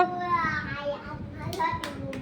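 Children clap for a classmate walking along a rope in a focus game, quick light handclaps under an adult's encouraging voice, with a few sharper claps near the end.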